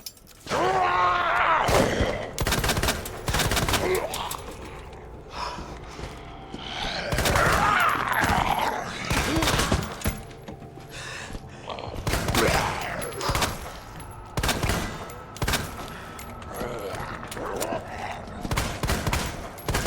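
Rapid bursts of video game gunfire crackle in repeated volleys across the stretch, loud and close, with a voice talking over parts of it.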